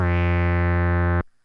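Steady modular synthesizer VCO pulse wave tone, a buzzy sustained note with rich harmonics that holds evenly for over a second, then cuts off abruptly into silence.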